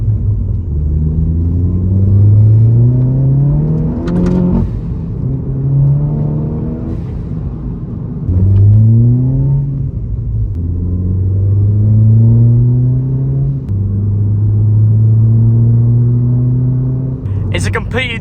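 A Stage 3 VW Polo GTI pulls through several hard acceleration runs, each engine note rising sharply before dropping at a gear change. Short sharp bursts of blow-off valve release punctuate the loud, close cabin recording.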